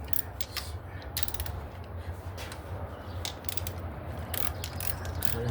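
Rapid clicking bursts of a hand ratchet loosening a bolt on the timing cover of a 2006 Chrysler 300 3.5, close up and fairly quiet over steady background hum, with no talking.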